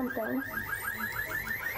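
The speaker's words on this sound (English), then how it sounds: "We're hearing a buzzer that's going off and slowly getting faster and more high-pitched" In the Tales of Symphonia: Dawn of the New World game, an electronic buzzer beeps in a quick repeating warble that rises in pitch, steady and moderately loud behind a faint voice.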